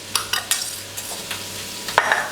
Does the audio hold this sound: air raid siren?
no